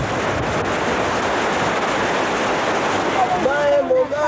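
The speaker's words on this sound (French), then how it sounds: "Oh, la merveilleuse cascade." Waterfall in the Comoros, a steady rushing roar of falling water at fairly close range throughout, with a voice briefly heard near the end.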